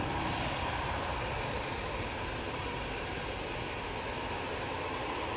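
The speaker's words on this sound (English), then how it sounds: "that EasyJet was a crazy, crazy takeoff" An EasyJet airliner takes off at Manchester Airport, its engines roaring loud and steady for the whole stretch with no voices over it.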